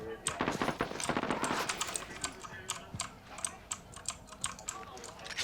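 Rapid bursts of gunfire from a weapon in the video game Call of Duty Warzone, a dense crackling volley mixed with keyboard clicks.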